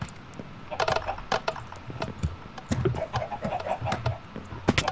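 Chickens cluck in the video game Minecraft: short, scattered clucks and flutters come close together across the clip, fairly loud, with light game noise underneath.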